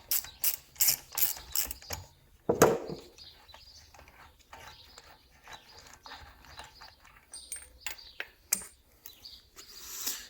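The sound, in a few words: ratchet wrench loosening a driveshaft nut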